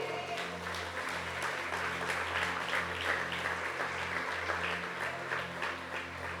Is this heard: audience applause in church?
yes